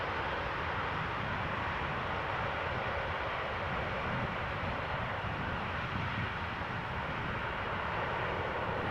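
Airliner landing at Amsterdam Schiphol Airport, a steady loud broadband engine roar close by that holds level for the whole stretch without a break.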